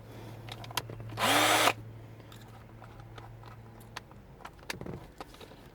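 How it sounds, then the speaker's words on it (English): A power drill with a 1/8 inch bit spins up in a short loud whine of about half a second inside a 2003 Jaguar XJR during a cupholder repair, followed by clicks and handling noises. "I gotta get my drill and find my 1/8 inch and all that fun stuff"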